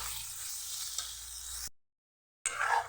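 Potatoes frying in a hot pan, with a steady sizzle that suddenly cuts out and then returns in a short burst of hissing and bubbling as a little water is poured in.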